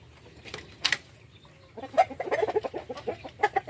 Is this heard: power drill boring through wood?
no